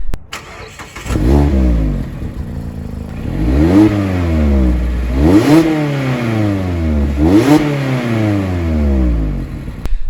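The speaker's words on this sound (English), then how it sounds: "So yeah, the exhaust sounds good. I'll do a little exhaust clip right here." A 2017 Mazda Miata RF engine revs repeatedly through its exhaust, each rev climbing sharply in pitch and dropping back, loud and close.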